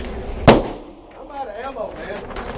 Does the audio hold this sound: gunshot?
yes